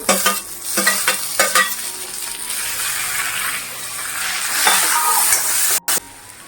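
Tomatoes sizzle and get stirred in a pan alongside roasted coconut for a mixed sprouts curry, with a fairly loud frying hiss broken by repeated scraping strokes of a spoon; no talking.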